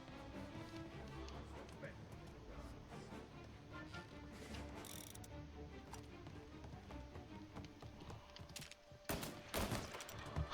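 Gunfire in the video game Mafia: Definitive Edition: scattered shots over background game noise, then loud, rapid bursts near the end, with some voices mixed in.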